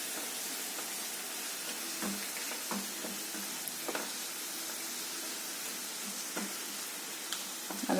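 Prawn thoran stirred in a pan, a steady broadband sizzle broken by a few sharp scrapes and taps of the spoon, close and fairly quiet, with no talking.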